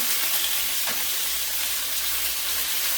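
Breaded chicken for chicken parmesan frying in a pan after being flipped, a dense, continuous bright sizzle and hiss close up with no pauses.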